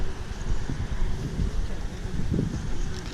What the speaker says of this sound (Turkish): dün akşamdan beri bayağı rüzgarlı